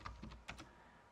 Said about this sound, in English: here basically I type Python